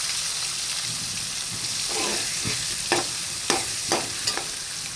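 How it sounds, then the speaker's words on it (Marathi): Ground green chili and garlic sautéing in a pan, a steady frying sizzle with several short scraping stirs of a spoon standing out near and clear, no talk. "आता आपल्याला मिरची हिरवी वाटून घेतलेली हिरवी मिरची ती पण परतून घ्यायची चांगली"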